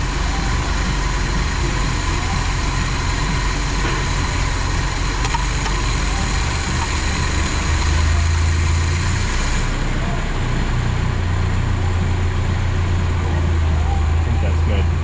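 Vehicle engine idling steadily at about 1,000 RPM, a continuous low rumbling drone with slight unevenness, close and moderately loud, with someone talking over it.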